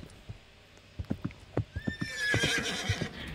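Hooves clop in an uneven run of sharp knocks as a Roblox game horse moves, then the horse gives one bright, shrill whinny over the continuing hoofbeats.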